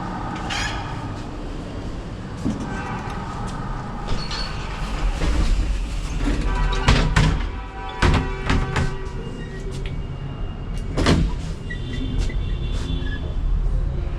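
A Cairo metro train is riding underground, with a steady rumble and rattle of the carriage, occasional squeals, and clicks of the wheels over the rail joints heard close up throughout.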